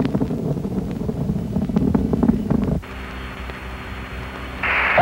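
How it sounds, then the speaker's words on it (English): Space Shuttle Columbia's main engines during ascent in 1981: a continuous broad roaring rumble that shifts abruptly to a thinner, steadier hiss partway through, with no voices. "Right now, the engines are generating over 42 million horsepower."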